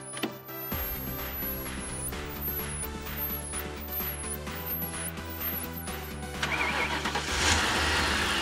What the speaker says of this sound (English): jump in and start the car